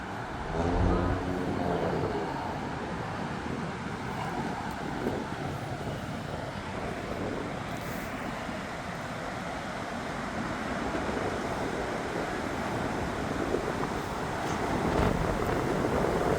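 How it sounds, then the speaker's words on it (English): Strong wind gusts through a Montreal street ahead of a storm, a loud, steady broadband roar buffeting the microphone that swells slightly near the end. "Winds are picking up substantially now"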